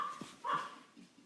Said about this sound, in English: The dogs are coming in.